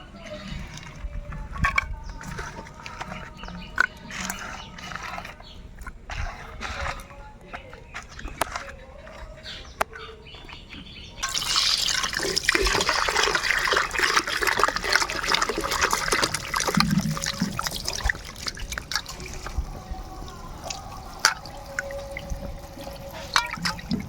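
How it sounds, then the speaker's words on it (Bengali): Cut puti fish are washed by hand in water, giving trickling, splashing and sloshing sounds that grow louder and busier partway through. Someone talks over the water. "মাছগুলো কেটে নিয়েছি এবার ভালো করে ধুয়ে পরিষ্কার করে নেবো"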